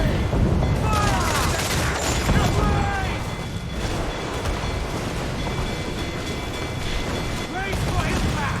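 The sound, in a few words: naval cannon fire in Assassin's Creed IV Black Flag video game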